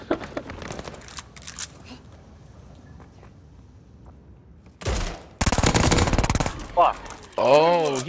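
Automatic machine-pistol fire in a first-person shooter video game, with a few soft clicks and game noise before two loud, rapid bursts near the end, under faint talk from a player.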